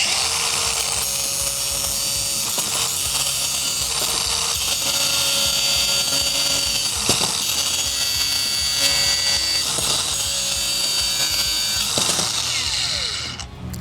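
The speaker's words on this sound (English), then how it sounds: "I thought we'd try to cut through that a couple times and see how well it does with this disc" A DeWalt angle grinder fitted with a cutting disc bites through a bolt in a loud, high, continuous whine with gritty rasping, a few brief dips in the strain, and sustained metal-on-abrasive screech over about fourteen seconds.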